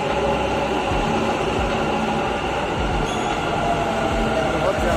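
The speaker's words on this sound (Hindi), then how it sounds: "बस अपना मेट्रो आ गया," A Bangalore metro train arrives, rumbling loudly and steadily through the space, a constant roar with faint rhythmic wheel clicks underneath.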